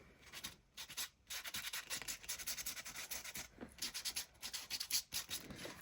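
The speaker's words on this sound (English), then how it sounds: "of sanding, so down the edges as well, and along the top" Steady rasping rubs of sanding paper edges and tops of a handmade journal, brisk back-and-forth strokes in quick rhythm, close and moderately loud with brief pauses between passes.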